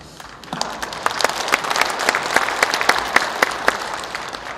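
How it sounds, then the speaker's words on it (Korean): Sustained applause from an audience at a Democratic Party leadership candidates' speech event in Daegu, dense overlapping hand claps filling the hall steadily with no voices over it. "큰 용기와 박수를 보냅니다"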